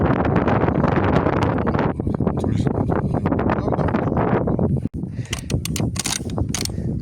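Strong gusting wind buffets a microphone outdoors during Breda Echo air rifle shooting at about 25 metres, making a loud, steady roaring rumble throughout with a brief dropout near the end.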